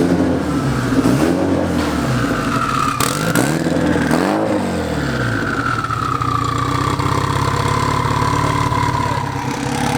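A Mitsubishi Evo 8 tuned to around 570 wheel horsepower revs on a dyno, the engine climbing and falling in loud sweeps before settling into a steady high drone, with no talking.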